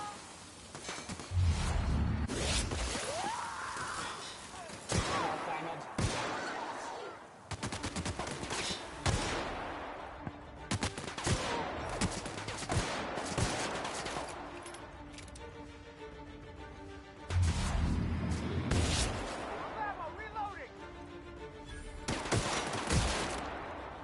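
Repeated bursts of gunfire from a gun in The Outer Worlds, loud and close, come in several volleys separated by short pauses.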